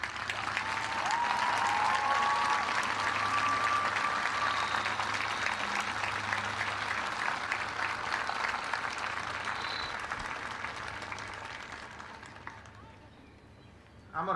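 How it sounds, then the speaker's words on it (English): A large crowd applauds at the 2020 West Plains High School graduation, with dense, sustained clapping that holds steady for about ten seconds before thinning and fading out. "Join me in giving them a warm round of applause."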